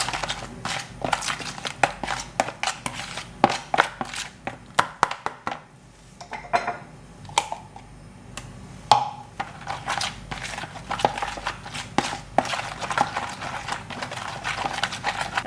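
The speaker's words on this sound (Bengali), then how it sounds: "এখন সব মিক্স করে নিই।" A spoon clatters quickly and steadily against a bowl while chicken marinade with garam masala powder is mixed for green grill chicken. The clicks are close and busy and ease off briefly in the middle. No one speaks.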